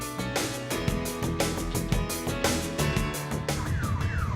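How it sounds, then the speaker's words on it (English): A rescue team's siren wails in India over a busy mix of traffic and music-like tones, its rising and falling sweep becoming clear toward the end. "A siren is suddenly heard."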